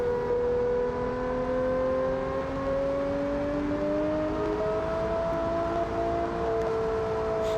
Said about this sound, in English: Okay, this is a monster of an engine. Over 1000 horsepower probably.